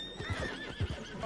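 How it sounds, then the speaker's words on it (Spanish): A white horse in Red Dead Redemption 2 whinnies loudly and close, with a rising neigh and snorting pulses, plus a faint clip-clop underneath; no talking. "Un caballo blanco aquí de antes, súper bonito"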